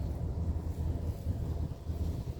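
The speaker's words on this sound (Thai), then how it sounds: "ลมแรงมากทั้งหนาวทั้งลมแรง" Strong, cold wind gusts at a train station, buffeting the microphone as a continuous low, rumbling roar that holds steady throughout, with no talking.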